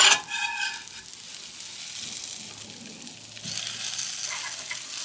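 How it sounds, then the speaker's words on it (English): Hash browns sizzle on a breakfast griddle, a steady close frying hiss with a brief clatter at the start and the sizzle swelling slightly louder near the end. "And I think I'm ready to flip the hash browns."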